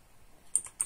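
A few faint, quick key clicks on a computer keyboard while entering a Linux install command, close and alone in a quiet room.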